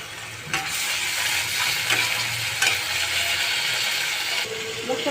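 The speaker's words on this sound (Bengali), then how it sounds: "আমার মশলাটা একটু ভাজা হয়েছে" Spices sizzle loudly in hot oil in a pan as ginger and garlic paste go in for chicken dum biryani, a continuous close frying hiss broken by scraping stirs of a spoon.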